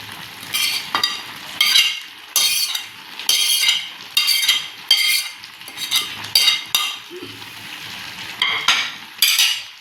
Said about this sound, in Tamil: வெங்காயம் நல்லா வெந்துட்டு நம்ம தேங்காய் போட்டுக்குவோம்.